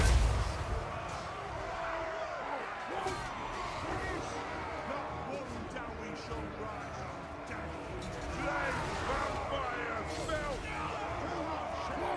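Dense, continuous volleys of gunfire and explosions from a Total War: Warhammer III battle, steady and loud throughout, with voices mixed into the din.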